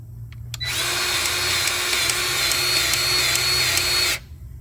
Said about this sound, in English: I got my grease gun hooked up.